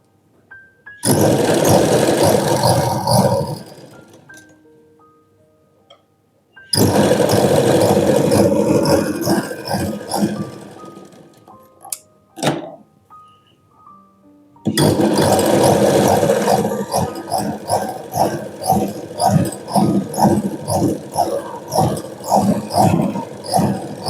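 Sewing machine stitching a lined blouse, running in long steady loud bursts with a brief pause between runs and a rapid needle rhythm throughout.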